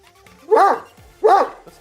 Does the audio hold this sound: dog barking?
yes